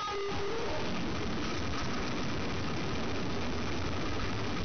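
A sewing machine stitches lace onto both sides of a girl's winter frock, its motor whirring in a loud, steady, unbroken run with no voices.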